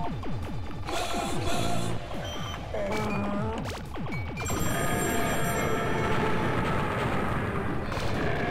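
A synthesized telephone ring in the video game Space Giraffe, heard as repeated electronic trilling bursts over layered arcade tones and laser-like sweeps, fairly loud and busy.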